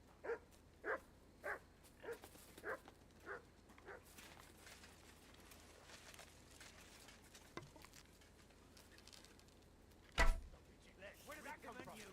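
Mutt the dog in Kingdom Come: Deliverance 2 gives about seven fairly faint, evenly spaced barks, followed after a lull by a sudden thump and some scattered light noises.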